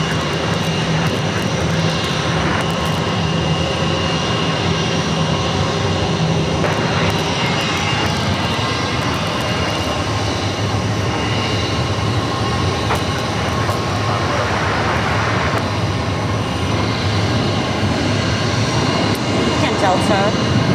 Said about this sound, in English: Delta, Flight 2145 from Minneapolis, Airbus A321.